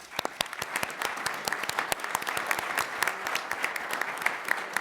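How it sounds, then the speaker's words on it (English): An audience at a Connecticut sentencing symposium applauds its presenters, a dense run of individual sharp claps forming steady, moderately loud clapping that continues without pause. "I want to give a round of applause to our presenters"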